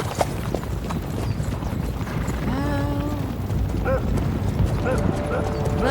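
Several horses' hooves clip-clop in the game Kingdom Come Deliverance 2, a dense steady patter throughout with whinnies near the end, under ongoing talk and other background noise.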